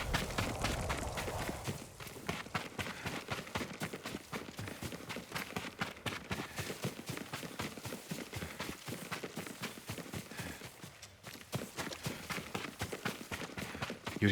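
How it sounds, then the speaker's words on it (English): Horse hooves clip-clopping at a steady gait in the video game Ghost of Tsushima, a dense, continuous run of close, fairly loud hoofbeats with no talking. "Yuriko's horse."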